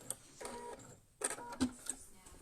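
Home sewing machine playing up while sewing a button headband, short whirring mechanical bursts with a gap and uneven stuttering runs, close and fairly faint.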